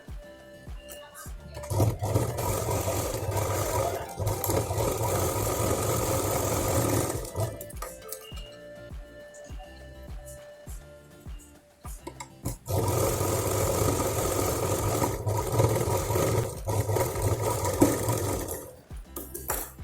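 An electric sewing machine stitching fabric for a small purse made from leftover blouse material, running in two sustained whirring bursts separated by a quiet pause.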